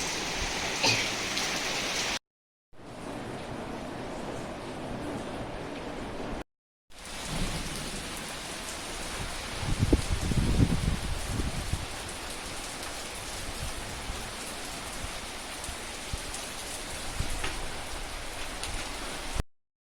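Heavy rain pours down in a steady dense hiss, with a low rumble of thunder swelling midway through, recorded in several short segments separated by brief cuts.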